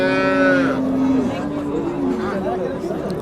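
Cattle low loudly at a busy livestock market: one long, close moo opens and fades over about a second, then the chatter of traders and a crowd murmur carry on beneath fainter animal sounds.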